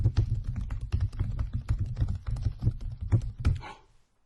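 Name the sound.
fast typing on a computer keyboard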